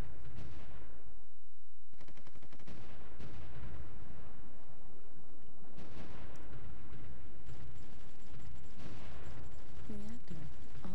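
Heavy artillery fire in the wartime strategy game Supreme Ruler: The Great War, a dense, continuous rumble of booming guns and crackling blasts that runs steadily throughout at a loud level.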